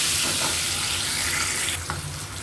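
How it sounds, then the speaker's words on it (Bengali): Eggs lightly fried in hot oil in a pan give a steady, loud sizzling hiss that runs throughout, with a brief soft clink near the end. "আমি ডিমটাকে একটু হালকা ভেজে নেব।"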